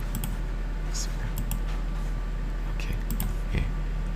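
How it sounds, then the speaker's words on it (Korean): A few scattered computer keyboard clicks, including a spacebar press, made while marking up a candlestick chart, heard faintly under steady background noise with a low voice murmuring. "스페이스바를 누르면 이렇게 다 지워집니다"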